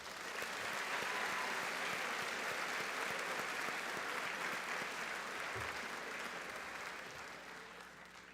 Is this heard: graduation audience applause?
yes